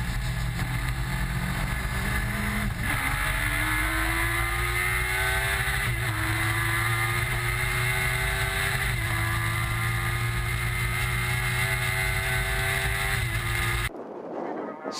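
Sevens racing cars lap the Kirkistown circuit, engines droning loudly with rising and falling revs through gear changes as they close up under braking, while a commentator talks over the racing.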